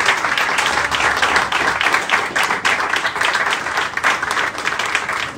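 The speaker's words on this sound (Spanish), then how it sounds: "vamos a darle un fuerte aplauso." Steady applause from an audience at the grand opening of a shots bar, dense clapping holding at an even level throughout with no talking over it.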